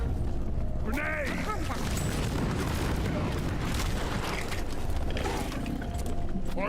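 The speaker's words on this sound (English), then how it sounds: "Grenade." A grenade blowing up in the video game Deep Rock Galactic, deep booming blasts with rumbling debris over a continuous loud din of combat, with voices speaking amid the noise.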